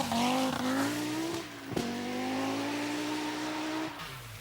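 Group B rally cars, an MG Metro 6R4 and an Audi quattro, race past with a loud, high engine howl that climbs through the gears, breaks off with a sharp crack at a gear change, then rises again before easing off.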